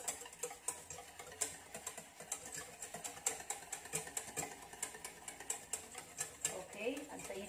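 Egg yolks are beaten briskly in a bowl for coconut jam, making a fast, steady ticking clatter that stays close and fairly quiet for several seconds.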